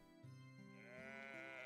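A sheep in the Steambot Chronicles video game lets out a single drawn-out bleat that wavers and rises in pitch, heard quietly on its own with no talking.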